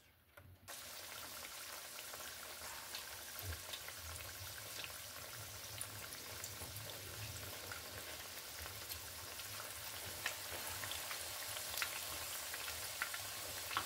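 Anchovies for ukoy fritters sizzle in hot oil, a steady dense hiss of frying that starts abruptly and holds at an even level throughout, close and fairly loud, with occasional small pops and no talking.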